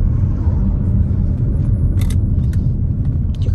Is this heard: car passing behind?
yes